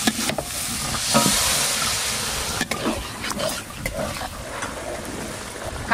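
Fried shrimp and onion stalks are stirred into a sizzling masala in a pan, giving a steady crackling fry with scraping stir strokes, close and moderately loud, with no talking.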